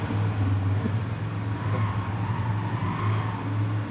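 A new motorbike's engine runs at a steady, low rumbling idle, close and continuous for several seconds with no talking over it.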